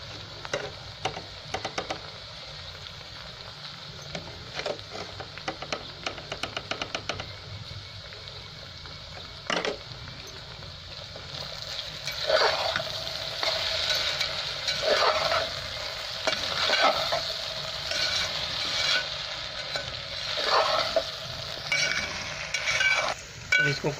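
Okra (ladyfinger) stir-fried with coriander, ground chili and salt in a pan, giving a steady low sizzle with intermittent scraping stirring strokes that grow busier and louder in the second half, close up and without speech.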